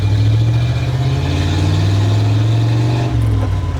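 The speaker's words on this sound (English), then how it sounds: "Listen to that Flathead." A 1953 Ford F100 pickup with a Flathead engine and exhaust cutouts revs hard, a loud, deep, rumbling roar held steady close by, dipping briefly near the end as it shifts gear.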